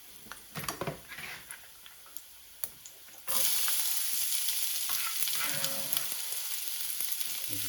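Chopped garlic hits a hot pan at about three seconds and breaks into a loud, steady sizzle that holds to the end, after a few quiet knocks and stirring taps.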